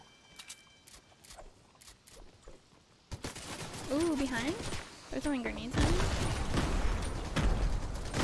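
Gunshots in the game Fortnite: a few quick, sharp shots at first, then denser, louder fire and game noise, with people talking over it.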